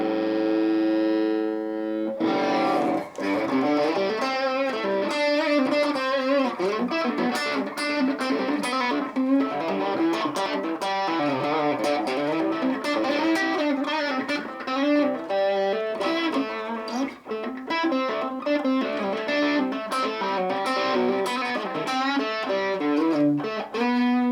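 Electric guitar played through a Boss Katana amp with a distorted, effects-laden tone and a wash of reverb, strummed chords and picked notes continuing steadily with no talking.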